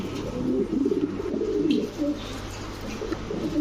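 Racing pigeons coo close by, a domestic dove-type bird giving repeated soft, throaty rolling calls in a steady rhythm over a low constant background hum, with no talking.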